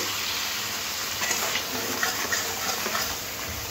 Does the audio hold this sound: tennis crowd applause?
no